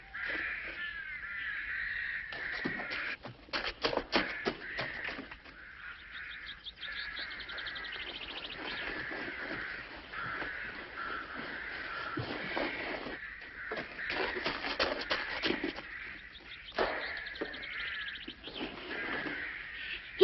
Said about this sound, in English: Them blackbirds is after my fruit.